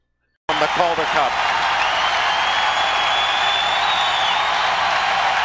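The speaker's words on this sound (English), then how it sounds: "Listen to this crowd. It's wonderful." A hockey arena crowd at a Philadelphia Phantoms Calder Cup game roars loudly. The dense, sustained cheer begins suddenly and carries on without letup, with a voice over it early on.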